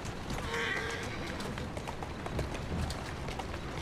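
Horse neighing briefly and hooves pounding at a run in the video game Assassin's Creed Syndicate, set against a dense, continuous rumble of street ambience with a short whinny near the start.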